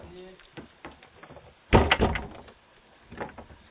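A front door swinging shut lands as one sharp, loud thud with a short rattle, over quiet background voices and room noise.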